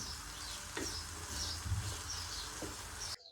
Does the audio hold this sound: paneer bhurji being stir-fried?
yes